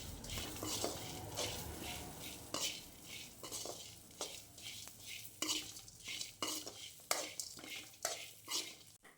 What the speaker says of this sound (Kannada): ಫ್ರೈ ಮಾಡಿ.